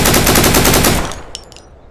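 A fully automatic burst of gunfire from a rifle in the survival shooter Deadside, loud and rapid for about a second, then cut off with a few faint ringing clicks and tail.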